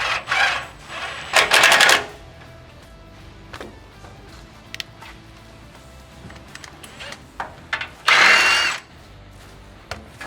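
Power tool unfastening a bolt on a rockslider side step fitted to a Toyota Hilux N70 single cab, heard as a few loud, short whirring bursts separated by quieter workshop clatter and small knocks.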